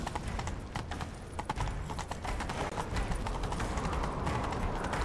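Hooves pound in a rapid, continuous galloping rhythm in the video game The Witcher 3: Wild Hunt, close and loud, with rushing noise throughout.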